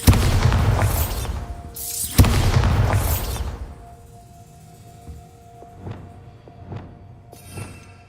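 Two heavy spell blasts from the Bombarda blasting spell in Hogwarts Legacy, each a deep, loud booming explosion with a rumbling tail, followed by a few fainter popping bursts.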